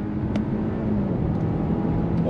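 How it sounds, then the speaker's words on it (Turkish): A 2021 Audi Q5 accelerating in auto mode, heard from inside the cabin as a steady engine and road drone that swells slightly over a couple of seconds. "Bir de oto modda hızlandıralım araca."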